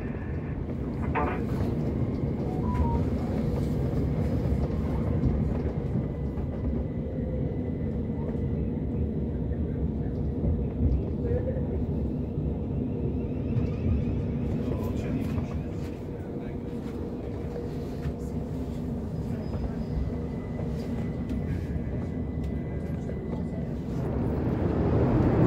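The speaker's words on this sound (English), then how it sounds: "That train felt like it took forever." A train rumbles along toward Gatwick Airport, a steady low rolling drone with occasional clatter and wind noise heard from inside the carriage, continuous and moderately loud throughout.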